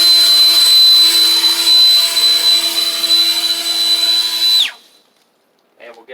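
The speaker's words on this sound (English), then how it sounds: "I'll blow this just to show you" A VASG 21V cordless leaf blower pushes leaves and pine straw across a hard concrete surface with a loud, steady whine and rushing air, then stops abruptly, leaving near silence and a brief faint voice.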